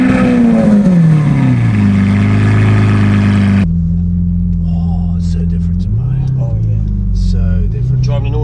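A Lamborghini Aventador S engine roars loud and close, revving up and falling away before settling into a deep, steady idle rumble, with voices talking over it.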